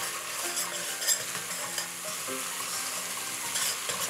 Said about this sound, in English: I'm going to add about a quarter cup of water and cook it for another 3 minutes